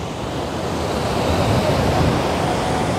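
Kozhippara waterfall rushes in a continuous loud roar of broad, dense water noise, steady and close throughout with no voices.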